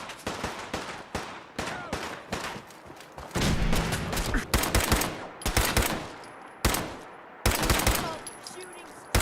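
Rapid bursts of gunfire in Fallout 4 at Fort Hagen, loud and close, with volleys repeating in clusters and brief gaps between them, while a voice speaks faintly underneath.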